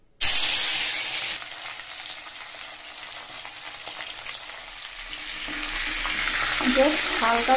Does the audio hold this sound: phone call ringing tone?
no